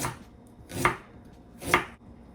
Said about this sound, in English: And so I'm gonna slice it.